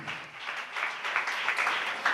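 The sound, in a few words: audience applause and clapping in church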